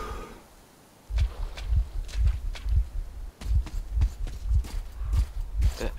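Steady heartbeat thuds from the Metro Exodus video game, a loud repeating low pulse of paired beats about every half second, starting after a second of near quiet with no talk.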